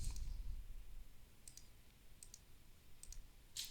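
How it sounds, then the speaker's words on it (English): Quiet computer mouse clicks while a map boundary polygon is drawn: several sharp, isolated clicks, some in quick pairs, spaced out over a faint background with no talking. "all I'm doing here is I'm just clicking."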